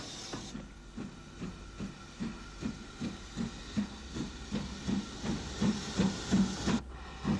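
Steam locomotive UG No. 48 running round a branch passenger set at Edward Street in Ulster, giving a steady rhythmic chuffing with hissing steam and faint wheel clatter at moderate distance, no talk.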